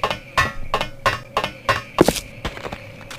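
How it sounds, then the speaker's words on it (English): Gunfire with shoddy ammo in the Sven Co-op game, a run of sharp metallic clinking shots at an uneven rhythm, moderately loud, with no voices. "This is the sound of shoddy ammo."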